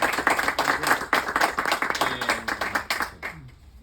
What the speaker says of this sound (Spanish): Tengo el honor acá, el placer de estar, y pido el aplauso por favor correspondiente, con Horacio Altuna.